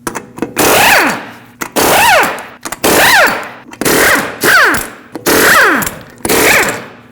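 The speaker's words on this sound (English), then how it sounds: "use a 21mm socket, remove all 6 lug nuts, and then pull the wheel off" An impact wrench with a 21mm socket removes the six lug nuts from a front wheel of a 2005–2021 Nissan Frontier. Loud rattling hammering bursts of about a second each repeat six times in close succession, each ending in a falling whine.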